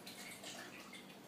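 Onion syrup mixture pours through a strainer into a jug, a steady soft splashing trickle that runs continuously at low level, with no talking.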